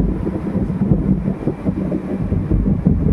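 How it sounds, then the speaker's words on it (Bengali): Strong wind rumbles and buffets continuously, a loud low roar of gusts with no voices. "আজকে একটু বৃষ্টি হয়েছে আর ওই একটু ঝড়ো হাওয়া দিয়েছে"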